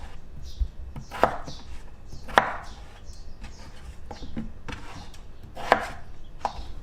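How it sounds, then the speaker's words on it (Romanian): A knife chops white potatoes into cubes on a board, giving irregular sharp knocks spaced about a second apart over a faint background, close and moderately loud. "ne trebuie 1 kg de cartofi albi tăiați în cuburi"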